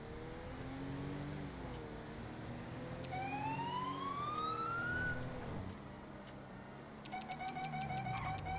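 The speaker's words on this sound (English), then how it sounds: "What sirens? You can't hear the ones behind me?" Police sirens from the video game GTA V with the LSPDFR mod wail steadily over a constant engine drone, with rising sweeps and a faster yelp pattern near the end, loud and continuous with no talking.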